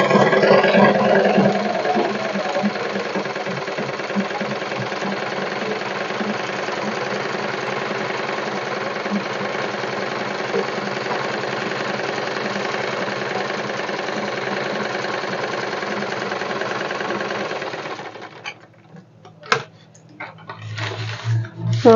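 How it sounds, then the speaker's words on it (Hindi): A sewing machine runs steadily while stitching a street line on paper, making a continuous mechanical whir for about eighteen seconds before stopping abruptly, followed by a few faint clicks. "केमती लाइन रे सिलाई करा जायछि"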